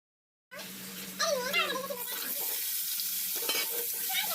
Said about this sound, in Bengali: তো মাছ ভাজি